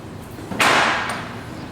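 A single sharp metallic strike on a Ford E350 truck ball joint, loud and close, with a brief ringing decay and no talking.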